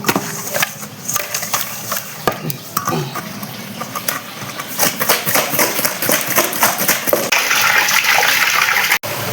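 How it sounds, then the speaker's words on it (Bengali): Cut falli fish rinsed with salt and water in a bowl, with steady close splashing and sloshing that builds louder toward the end, plus scattered knocks and handling clatter. "এখন এই নুন দিয়ে মাছগুলো সব পরিষ্কার করে নেব"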